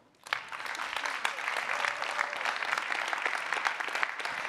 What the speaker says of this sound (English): Keep the applause rolling until she's at the lectern